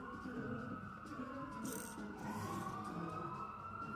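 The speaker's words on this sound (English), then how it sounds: "Emergency crews, respect, but these sirens trigger a bit of anxiety." A wailing emergency siren rises and falls continuously, fairly loud and nearby, with steady background noise and faint traffic underneath.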